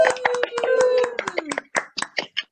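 Audience clapping and cheering for a youth drama club cast member during curtain-call bows, with sharp irregular claps, a few whoops and voices mixed in, steady at first, then thinning into scattered bursts.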